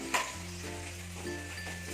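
Jackfruit and eggplant fry in a pan with a soft, steady sizzle, fairly quiet, with a brief clatter at the start and a low background hum.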